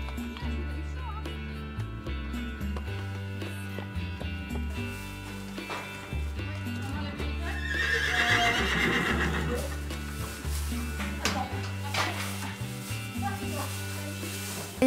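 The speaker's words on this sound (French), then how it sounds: "le déchargement des chevaux les plus lourdement handicapés" Horses, some of them heavily disabled, neigh and whinny loudly and repeatedly while their hooves clop as they are unloaded at a horse refuge, with a steady tonal background running underneath.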